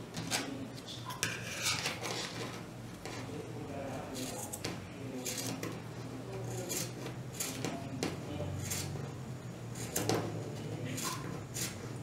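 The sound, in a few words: cutting folded fabric for a diaper cover pattern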